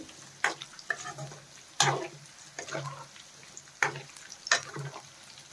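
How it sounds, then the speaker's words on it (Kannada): Soya chunks deep frying in hot oil on a low flame, a soft close sizzle punctuated by several sharp stirring scrapes at irregular intervals. "ಲೋ ಫ್ಲೇಮಲ್ಲಿ ಇಟ್ಕೊಂಡು ಡೀಪ್ ಫ್ರೈ ಮಾಡ್ಕೋಬೇಕು"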